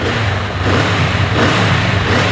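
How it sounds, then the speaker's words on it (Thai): Engine of a 2022 Honda Rebel 500 motorcycle with its stock exhaust, a steady close, mid-pitched idle rumble that swells slightly partway through, with no talking. "คันนี้ยังคงเป็นท่อเดิมนะฮะเดี๋ยวมาฟังเสียงท่อคันนี้กัน"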